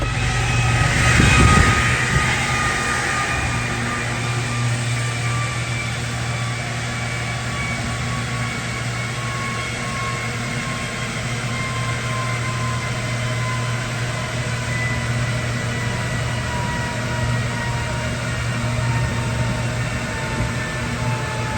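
A truck with an LM2 engine runs on a dyno, producing a loud, steady engine drone that holds constant for the whole stretch with a slight swell at the start.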